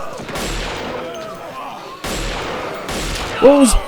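Gunfire from a Walking Dead episode cracks in sharp bursts, a couple of loud shots about two seconds apart echoing off surroundings, mixed with a voice and a brief shout near the end.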